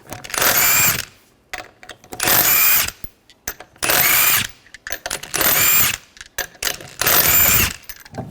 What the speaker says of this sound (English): Remove the lug nuts, use a 19mm socket.